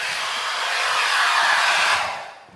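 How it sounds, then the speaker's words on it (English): A hair dryer powered by a Jackery portable power station in an RV blows with a loud, steady whoosh for about two seconds, then winds down and cuts off as the unit overloads. "Maybe we'll just plug the hairdryer in here and see how we can do."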